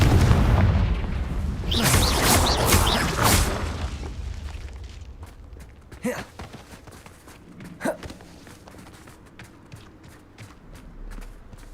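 Confringo fire spell blasting in the video game Hogwarts Legacy: a cluster of heavy booming explosions at the start, then a rumbling tail with a few sharper impacts and pops further on.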